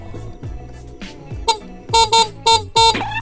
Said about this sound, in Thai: ฟังเสียงแตรหน่อย